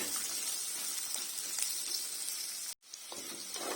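Dried chili, curry leaves, onion, ginger, garlic, fenugreek and mustard seeds fry in coconut oil with a steady, close sizzle and soft stirring, cut by a brief silent gap near the end before the hiss resumes.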